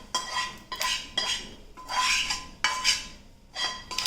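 A spoon scrapes around a pot as a semolina mixture is stirred, making about six close, gritty rasping strokes in an uneven rhythm with no voices.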